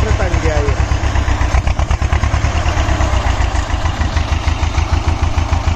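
An antique T-25 tractor engine idles with a rapid, even low thumping, loud and close, with voices heard at times over it.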